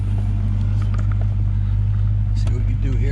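Hellcat-converted Chrysler 300 on a drive, its engine holding a steady low rumble throughout at close range, with a faint voice briefly over the drone.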